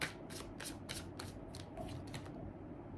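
Tarot cards are shuffled by hand in quick, rhythmic riffles, about eight crisp bursts of papery flutter, close and fairly quiet, with no talking.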